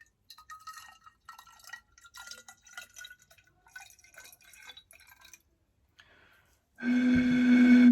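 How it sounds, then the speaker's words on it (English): Scattered clinks and drips of water, then a loud steady stream of water pours into a glass bottle, tuning it as a musical note, its pitch ringing clearly until the end. "we're going to tip some water in here"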